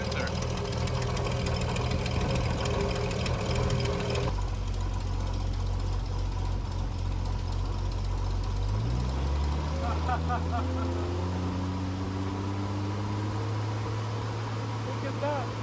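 A 1972 Triumph TR6 engine idles roughly and unevenly, a steady close rumble running throughout, its pitch stepping up partway as the revs shift, with a person talking over it.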